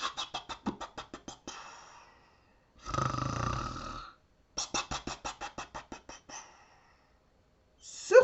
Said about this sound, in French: Barry ronfle à en faire trembler les arbres.